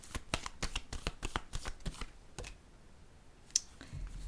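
A tarot deck shuffled and a card drawn: a quick run of close, snappy riffling clicks that then thins to a few scattered taps and one sharp snap near the end, with no speech.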